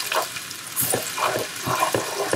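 Chopped tomato is stirred into simmering garlic and basil in a pan for a holiday pasta, giving wet scraping and squelching strokes with a soft bubbling sizzle between them, near and clear.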